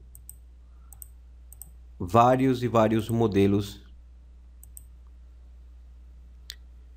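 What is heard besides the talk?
computer mouse clicks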